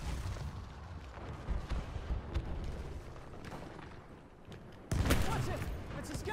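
Enemy gunfire in the Battlefield 1 video game, where a rattle of battle noise gives way to a sudden loud, dense burst of shots near the end, heard up close over a rumbling background.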